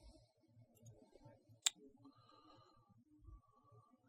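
A single sharp mouse click opens a link in a web browser while navigating to a Sitecore server's URL on an Azure web app. The click is brief and crisp against a quiet, low murmuring background.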